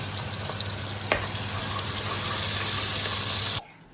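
Food fries on a home kitchen stove, a loud, steady sizzle with a faint knock early on that holds for about three and a half seconds, then cuts off abruptly.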